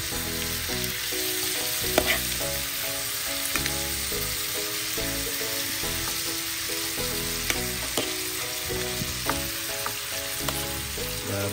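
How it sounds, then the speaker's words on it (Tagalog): Tofu frying in butter in a pan, with a steady, dense sizzle close by and a few light scrapes and clicks of stirring, with no talking. "painit lang natin yung ating tofu dinakdakan sa ating butter"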